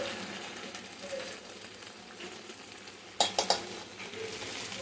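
Chili powder stirred into a frying country chicken curry, a steady sizzle with scraping stirring strokes, then a few sharp clanks of a utensil against the pot near the end.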